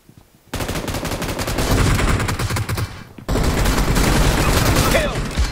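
In PUBG Mobile, automatic gunfire rattles in long, loud continuous bursts, with a short gap between two sustained volleys.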